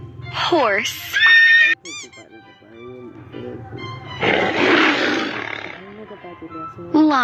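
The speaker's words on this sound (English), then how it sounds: "Lion." A lion gives a deep, rough roar lasting a couple of seconds, loud and near, with cartoon voices and squeaks before and after it.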